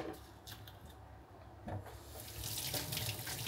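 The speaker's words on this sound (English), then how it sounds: "right now I'm washing the potatoes to get the dirt off" Potatoes rinsed under a running kitchen tap, water splashing and gushing into a sink with rubbing and brief knocks, growing louder toward the end, no speech.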